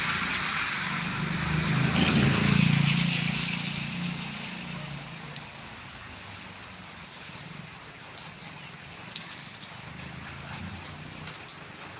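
Unseasonal rain falls steadily in Jambughoda, a dense hiss of drops on surfaces throughout, swelling early with a low engine rumble nearby, then continuing evenly with scattered louder drips.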